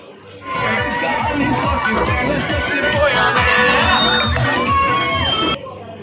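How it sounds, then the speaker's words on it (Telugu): Crowd at a village fair (jatara) shouting and cheering at night, a loud dense wall of overlapping voices and children's whoops lasting several seconds before cutting off. "అందరు కేకలు పెడుతున్నారు."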